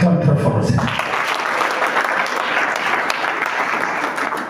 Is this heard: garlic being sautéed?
no